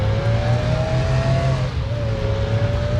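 Race cars roar off the line in the video game Demolition Derby 3, a steady loud engine drone with a rising whine that dips briefly and climbs again, with no voices.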